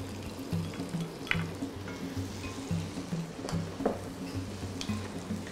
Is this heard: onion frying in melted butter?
yes